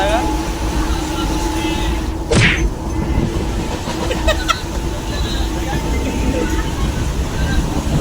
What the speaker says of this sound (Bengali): এটা আমরা ট্রেনে আছি ট্রেনে